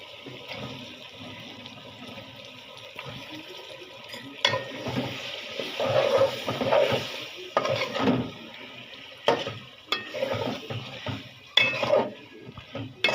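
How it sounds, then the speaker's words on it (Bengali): Chicken pieces going into a spiced masala in a pan for chicken biryani, with a low sizzle building into louder bursts of frying, stirring and clattering utensil scrapes, no voices. "মশলাটা কষানো হয়ে গেছে মাংস দিয়ে নিই"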